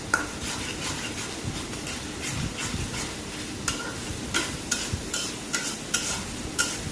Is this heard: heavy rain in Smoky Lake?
no